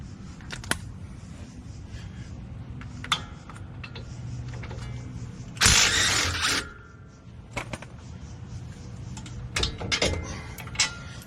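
A 3/8-inch DeWalt power tool works on a RAM 1500 pickup during an ABS sensor repair, giving one loud burst of about a second amid scattered mechanical clicks and handling noises, with no talking.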